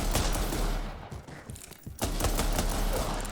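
A submachine gun in the video game RE:Verse fires rapid continuous bursts, dense and loud, with a brief lull in the middle before the rattling fire resumes.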